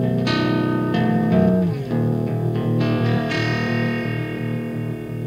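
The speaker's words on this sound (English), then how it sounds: "let's listen to what it sounds like" An electric guitar runs through a ring modulation pedal, giving metallic, distorted, clangorous notes with bending pitch. A few plucked phrases ring out loud and alone.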